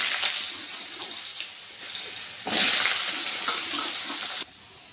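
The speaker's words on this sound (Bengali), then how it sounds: "আলুগুলো এখন ভেজে নেব" Potato pieces fry in hot oil with a steady, close hiss and crackle, the sizzle jumping louder midway before cutting off abruptly.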